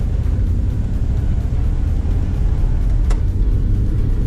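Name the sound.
1956 Pontiac Chieftain accelerating from standstill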